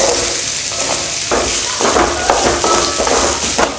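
Ginger frying in a little sesame oil, a loud, steady sizzle with repeated scraping stir strokes and soft clinks from the pan, heard with no talking.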